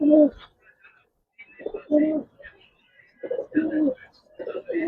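Giribaz and coloring pigeons in a loft give low, soft cooing in several bursts with pauses between, fairly close, mixed with faint chirps and some low voice-like sounds.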